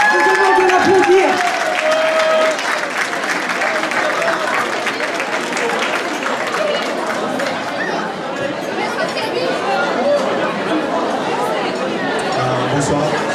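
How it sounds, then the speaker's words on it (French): An audience applauds at a starred dinner event in Aulnay-sous-Bois, a dense steady clapping that fills the room for several seconds alongside crowd chatter, with a voice speaking briefly at the start. "Je demande de l'applaudir."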